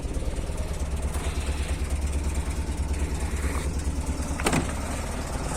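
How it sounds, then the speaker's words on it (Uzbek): Steady, even idle of a GAZelle van engine heard up close, a continuous low rumble holding at constant loudness throughout with no speech. "Bir tekisi ishlab turibdi motori."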